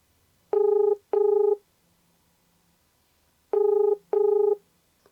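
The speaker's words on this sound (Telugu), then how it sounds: "ఒకసారి అతనికి డైరెక్ట్గా ఫోన్ చేసి ప్రయత్నం చేద్దాం" Four electronic dialing tones beep in two pairs separated by a pause, clean and steady with nothing else around them.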